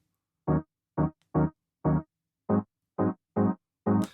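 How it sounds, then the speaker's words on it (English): Pop-production piano chords doubled with a warm synth layer, eight short evenly spaced stabs played in a bouncy rhythm, clean and moderately loud with nothing else around them. "I added in some synth chords as a layer to the"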